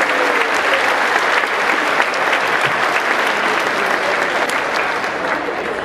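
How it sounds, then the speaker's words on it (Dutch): A festival-tent crowd at the opening concert of the Winterswijk folk festival breaks into steady, dense applause that fills the space loudly and evenly from start to finish. "En voor jou even een applaus van hier uit de tent."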